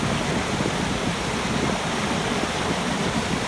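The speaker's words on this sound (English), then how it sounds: "you can see the sluice is well over the top" Spring meltwater pours over an overtopped lake sluice in a steady, loud, broadband roar of rushing water, continuous and close with no pauses.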